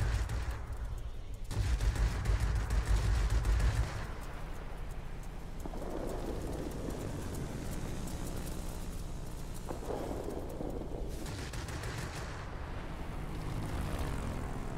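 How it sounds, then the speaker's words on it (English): Enemy aircraft engines in a World of Warplanes air battle, with a Bf 109 closing in, drone steadily throughout, a burst of heavy low rumble in the first seconds, with loud, continuous, dense roaring and no talk. "we've got some enemy aircraft coming in here"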